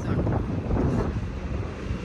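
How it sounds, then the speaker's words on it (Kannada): Outdoors, wind buffets the microphone in a continuous loud, low rumble with no other sounds standing out. "ಗಾಳಿದೆ ಸೌಂಡ್."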